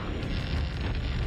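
A dense, roaring blast from a cannon tower in Warcraft 2 fills a brief moment, a broad rumbling explosion that stays loud and steady from start to finish.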